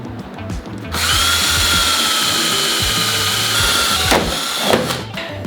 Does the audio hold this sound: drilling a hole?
yes